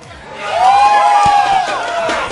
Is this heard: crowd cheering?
yes